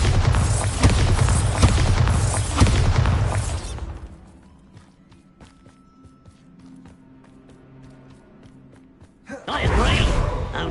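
A Bombarda spell blast in Hogwarts Legacy: a loud, dense burst of explosive noise fills the first few seconds, then drops to quiet ambient game sound with faint ticks before another loud surge near the end.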